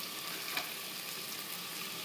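Marinated paneer frying with cooked vegetables in a pan, giving a steady, close hiss of sizzling oil with one faint clink, and no voices.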